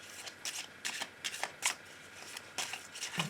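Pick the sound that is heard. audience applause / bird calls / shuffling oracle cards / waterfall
shuffling oracle cards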